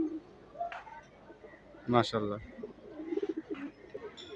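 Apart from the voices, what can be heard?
white pigeon cooing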